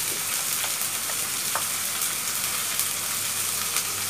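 Ginger paste frying with chicken skin in a hot pan, with a steady, close sizzle and hiss and a few faint clinks and stirring sounds throughout.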